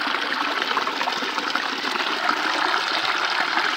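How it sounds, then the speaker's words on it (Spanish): A small stream of water rushes steadily through a little gully near a river, a continuous close splashing flow with no talking. "Aquí viene una barranquita y del lado de acá viene otra."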